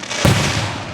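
A single loud firework bang over Gettysburg on the Fourth of July, bursting sharply and trailing off into a long rumbling echo.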